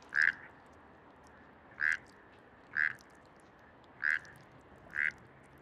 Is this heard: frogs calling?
yes